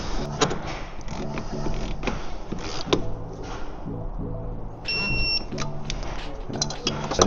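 Torque wrench tightening the brake caliper bracket bolts on a Toyota Supra Mk4 fitted with an AP Racing big brake kit. Close, repeated ratchet clicks and metallic creaks come in short bursts, and a brief high beep sounds midway.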